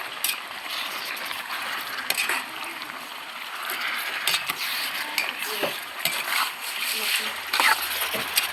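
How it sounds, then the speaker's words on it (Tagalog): Chicken adobo with liver and potato being stirred in a pan, with steady sizzling, scattered scrapes and utensil clinks against the pan over a continuous hiss, and faint talk in the background. "Tapos, haluin natin ulit."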